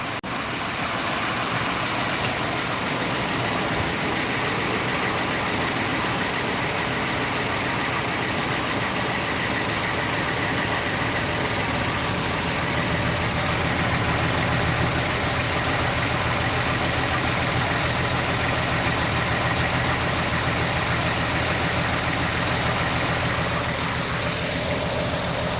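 A 2012 Ford F-250 plow truck with 67K miles idles steadily while warming up, a continuous close engine rumble with no speech over it.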